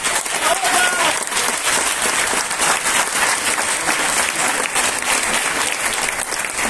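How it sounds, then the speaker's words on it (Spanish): Loud, sustained applause from a crowd at a documentary premiere honoring María León, continuous dense clapping throughout without pause. "Un aplauso."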